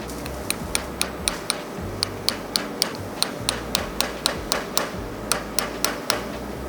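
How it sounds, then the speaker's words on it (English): A hammer taps steadily on a socket to seat a pre-load collar on a 4th-gen Toyota Tacoma, a rapid run of sharp metallic ticks in an even rhythm, close and clear with no talking. "just very carefully use your hammer and tap around the outside"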